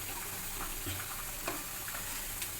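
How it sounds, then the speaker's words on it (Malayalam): Spice masala with chili powder frying in a pan for an egg and potato curry, a continuous close sizzle with light scraping taps of stirring scattered through it. "ഇത് നല്ലോണം വറുക്കണം"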